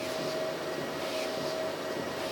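A steady mechanical hum from a walking pad motor with a faint constant tone running underneath, even and unbroken throughout, with no voices.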